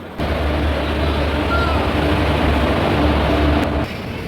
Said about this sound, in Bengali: এখানে দাঁড়িয়ে আছে দার্জিলিং মেল, শিয়ালদা থেকে আসলো, আর ঢুকে গেছে আমাদের সুপারফাস্ট।